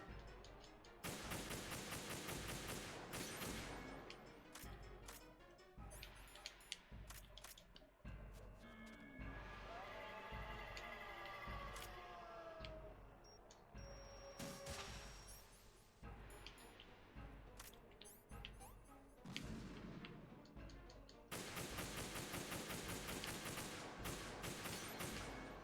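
Video game gunfire with sniper rifle shots, heavy repeated reports and sharp impacts in dense clusters, loud and close, with busy game effects between the bursts.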